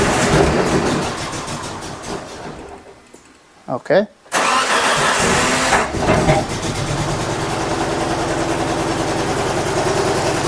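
A 1998 Chevy Tracker with fuel injector trouble cranks briefly, fires up loudly and settles into a rough, steady close idle, with someone speaking briefly.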